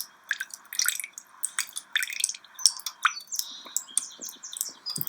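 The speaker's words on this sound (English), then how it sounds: "If you guessed water coming from the drain, you're right." Water drips and splashes from a drain in quick irregular drops close by in strong wind, with chirpy high-pitched bursts mixed in.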